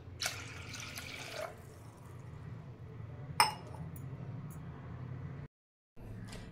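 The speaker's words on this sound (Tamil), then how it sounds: "இதில் வந்து ஒரு 1/2 கிளாஸில் தண்ணி ஊற்றுவேன்." Half a glass of water poured into a pressure cooker holding soaked dal and rice, a faint close trickle with a sharp metallic clink midway and a brief gap near the end.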